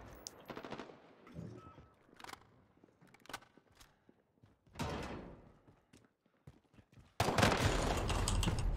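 Gunfire from a first-person shooter game: scattered bursts of shots and impacts that end in a sustained, loud barrage of rapid fire over the final seconds, with no talk.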